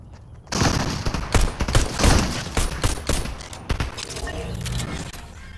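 Pistol shots and gunfire from a Fortnite match, a rapid run of sharp cracks and bursts that spread through the whole stretch, loud and close, with no talk over them.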